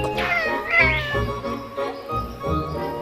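A cat meows loudly and repeatedly in a rising, caterwauling voice. The meows are close and sit over a steady bed of background music, with no speech.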